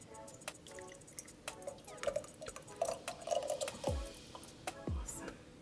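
Strained sauce poured into a mason jar in a home kitchen, heard as soft dripping and liquid trickles with two brief glugging pours, quiet and close.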